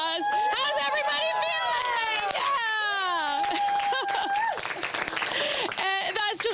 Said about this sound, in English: that's just one of several applauses we've had since this rocket went up